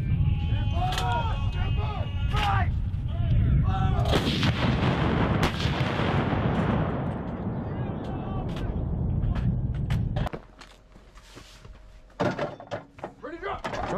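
Marine artillery battery firing, huge booming cannon blasts that roar and rumble continuously at close range, with shouted fire commands over them, then a quieter stretch and another heavy boom near the end.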